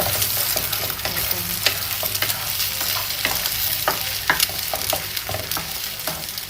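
Three eggs frying in hot oil in a pan for stir-fried liang leaves, a loud, dense sizzle with frequent sharp spits and crackles throughout.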